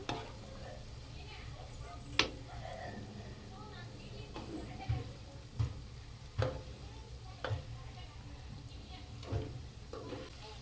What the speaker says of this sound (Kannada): ಸ್ವಲ್ಪ ಮಿಕ್ಸ್ ಮಾಡೋಣ, ಉಲ್ಟಾ ಮಾಡಿ ಹಾಕಿ ಅದನ್ನ